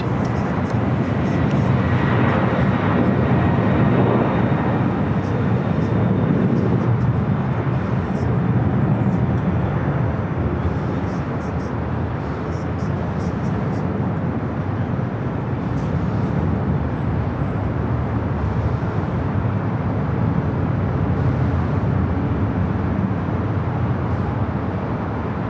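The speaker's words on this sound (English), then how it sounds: "We'll wait for the 767 there on the south side. It sounds like it's rocking and rolling down" Boeing 767 taking off down runway 25 right at Los Angeles airport, a steady, broad jet roar holding for the whole stretch, heard from a distance with talk over it.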